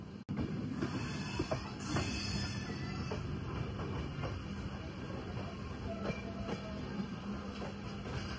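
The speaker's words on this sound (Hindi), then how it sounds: "अभी हरिद्वार से निकली है हमारी ट्रेन और टाइम के बिल्कुल टाइम पे ही चल रही है" Local train running just after departing Haridwar, a steady broadband rumble of wheels and carriage noise with faint rhythmic clicks over the rails, continuous and close from inside the coach.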